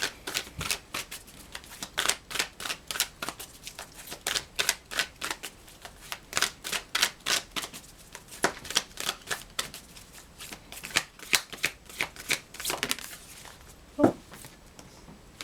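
A deck of tarot-style animal oracle cards is shuffled repeatedly, giving rhythmic bursts of crisp riffling and flapping up close, with short pauses between passes and a single louder tap near the end.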